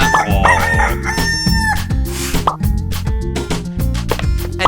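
A rooster crows loudly in a drawn-out, rising call over bouncy background music, close and clear, with a few plopping accents and no talking.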